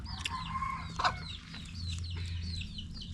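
Chickens clucking at close range, with short repeated calls and brief squawks over steady low background noise.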